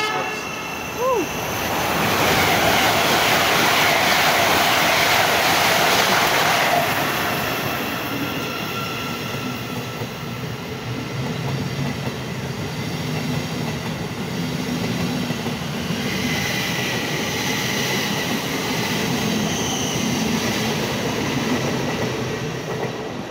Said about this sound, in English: Azuma speeding past Stevenage for somewhere from London King's Cross.